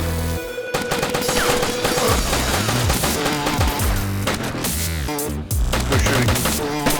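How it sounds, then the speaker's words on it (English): Dense, loud gunfire from the DayZ Standalone video game: rapid overlapping shots and bursts rattle continuously through the stretch, with booming low impacts and no talking. "Who's shooting?"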